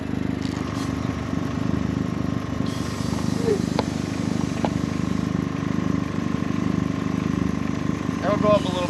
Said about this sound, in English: Does the compressor have to build pressure or something?